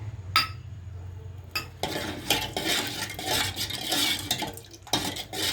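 A spoon scrapes and clinks against a pan while Bombay chutney is stirred, a few sharp taps at first, then continuous rough stirring with a faint sizzle, close and fairly loud.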